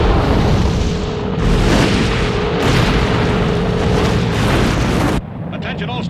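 A blown gas field erupts with a massive, roaring explosion that rumbles on for several seconds, loud and close. The blasts surge in waves before cutting to a lower, distant rumble.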